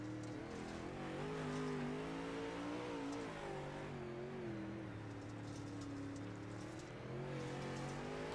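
A dirt late model race car on the track at Fairbury, heard from on board with its engine droning steadily and rising and falling gently under smooth throttle, continuous and close.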